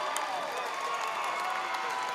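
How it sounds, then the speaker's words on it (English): Basketball crowd at a boys' regional high school tournament game cheering and shouting steadily after a three-pointer, a dense continuous roar of many voices. "Crowd on its feet"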